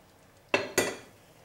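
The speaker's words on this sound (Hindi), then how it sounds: "अब आप इसके अंदर अपनी स्टर फ्राई वेजिटेबल्स डाल दें" Pre-fried stir-fry vegetables and chicken drop into a pan with two quick metallic clatters in a row. The clatters sound close and stand alone, with no talking.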